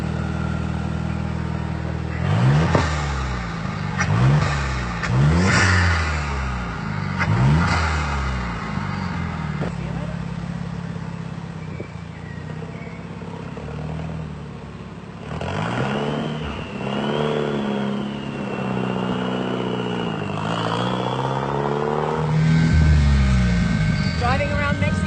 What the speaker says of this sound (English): Driving around Mexico City in the Vool, the supercar here.